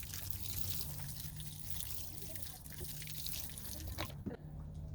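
Water trickling and dribbling onto freshly transplanted parsley, thyme and sage in a garden bed, a steady close splashing that briefly falls away near the end.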